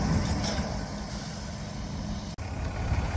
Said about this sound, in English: here's one of the trucks with all the track sections